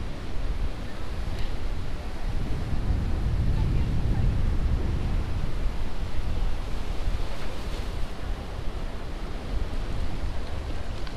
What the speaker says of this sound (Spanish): estamos en un lugar en donde el río se une con el mar